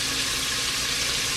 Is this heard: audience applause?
no